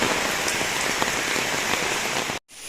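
Heavy rain pours steadily during a flood, a dense, even hiss of drops hitting surfaces close by, ending in a sudden cut to near silence.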